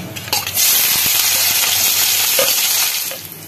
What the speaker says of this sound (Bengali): এবার আমি কালো জিরে ফোড়ন দিচ্ছি।